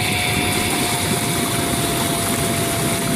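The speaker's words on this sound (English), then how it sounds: "to test it, we'll just come up here and press our blower button" Sundance Altamar hot tub air blower motor running with a steady, loud whooshing hum and constant airflow noise, unbroken for the whole stretch.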